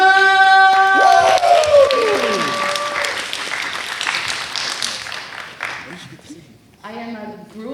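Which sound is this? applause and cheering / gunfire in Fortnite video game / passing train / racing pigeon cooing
applause and cheering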